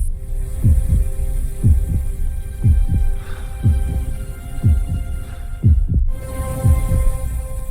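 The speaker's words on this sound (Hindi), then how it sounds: "दिल तेज धड़कने लगता है।" A fast heartbeat sound effect thumps in steady double pulses, loud and close, with a constant low hum beneath and no speech.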